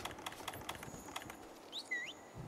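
A mount is ridden in Monster Hunter World: Iceborne, with faint, evenly spaced footfalls over quiet ambience and a couple of soft bird-like chirps near the end.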